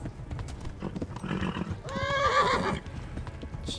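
A horse in Kingdom Come: Deliverance gallops with steady clip-clop hoofbeats and lets out a loud, close whinny midway, with a voice talking over the action.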